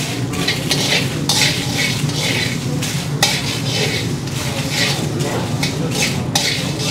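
Fenugreek seeds and Byadgi chillies roast in a hot pan, stirred with a spoon in repeated scraping passes over a faint dry sizzle, with a sharp clink of metal now and then.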